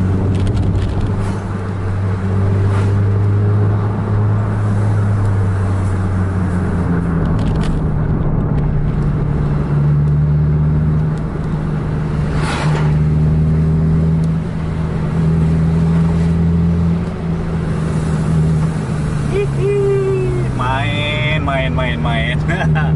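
Four buses, two of them Scania 1626s, drive close together on a road at night, giving a continuous deep engine drone with gear and revving changes and a rising whine near the end.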